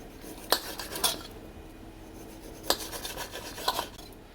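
Knife slicing chorizo sausage into even rounds on a board, a few sharp separate cuts spaced across a quiet kitchen, close and fairly soft.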